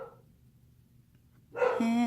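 A pit bull barks loudly and close by near the end, with a short harsh bark and a sustained yelping tone following a quiet stretch at home in Vermont.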